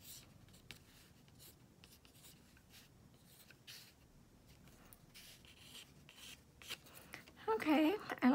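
Pencil sketching coral flowers on paper gives a soft, close scratching in quick repeated strokes, quiet at first and growing louder near the end, where a voice briefly speaks.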